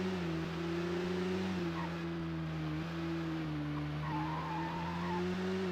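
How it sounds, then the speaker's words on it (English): A car in a racing video game slides after hitting the wall, giving a sustained tire skid and squeal over a steady engine drone that holds for several seconds with no talk. "your car does this weird slide once you go into the wall"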